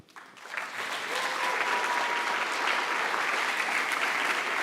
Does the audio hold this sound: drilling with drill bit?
no